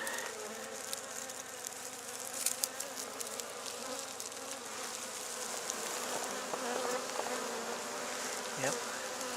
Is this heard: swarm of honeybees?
yes